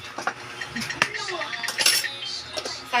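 A spoon stirs flour, cornstarch, seasonings and tiny dulong fish together in a bowl, giving close, quick clinks and scrapes of utensil against the dish in an uneven rhythm.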